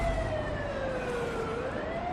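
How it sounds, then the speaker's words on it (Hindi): Emergency vehicle siren wailing in a slow rising and falling tone, fairly distant and steady, over a faint background rumble with no voices. "लोगों की चहल पहल में एक सायरन की आवाज भी आ रही थी।"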